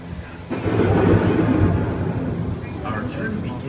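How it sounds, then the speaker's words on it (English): Rumbling thunderstorm effect on EPCOT's Living with the Land boat ride, a heavy low roll swelling after a sharp onset near the start, then easing into a steady rainy hiss with faint higher tones late. "The approaching storm may seem violent and destructive to us, but to nature, it's a new beginning in the cycle of life."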